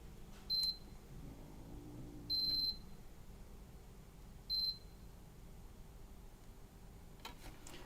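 Three short, clear electronic beeps, close and distinct, spaced unevenly with the middle one longest, come from a meter or device while a motor driver circuit is checked, over a low steady room hum.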